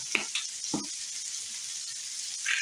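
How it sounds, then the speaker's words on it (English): Ground beef seasoned with smoked paprika sizzles steadily in a pan, with a few scraping stirs of a utensil breaking up the meat, close and moderately loud, no talking. "I don't want to overcook my ground beef and dry it out, so I'm going to actually just move it around a bit"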